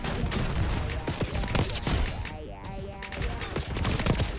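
Rapid automatic gunfire from an ASG 89 rifle in Black Ops 6 crackles in dense bursts, sharp repeated shots with a short lull midway, fairly loud within game audio.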